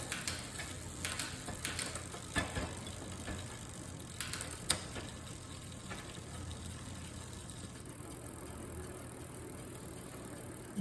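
An 8-speed rear cassette on a bicycle shifting gears: scattered light clicks and ratcheting taps of the mechanism over a steady low background hum, with no talk.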